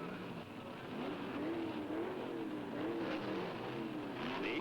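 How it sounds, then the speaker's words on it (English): Drag racing cars, a Roadrunner against an FMP Chevrolet, launching at the Winter Nationals, a steady loud engine roar with wavering pitch as the revs rise and fall, heard alone from a 1960s–70s film. "Don Gross's brand new Roadrunner going against national champion Carol Caudle in his FMP Chevrolet."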